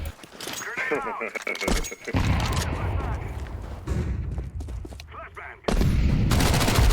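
Rapid gunfire in a multiplayer shooter video game, repeated sharp shots and bursts, loud and close, while players talk excitedly over the fighting.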